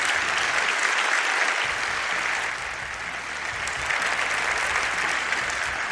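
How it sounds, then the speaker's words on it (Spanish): Sustained applause from a large audience at the Palacio de Congresos in Albacete, loud dense clapping that holds steady for the whole stretch with no voices over it. "Un aplauso"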